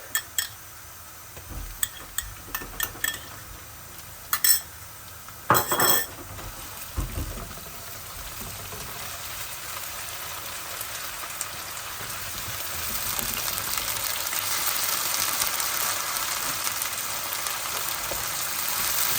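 Onions browning in a frying pan for a basa fish fillet curry, a steady soft sizzle that grows louder toward the end, with a few utensil clinks and scrapes near the start.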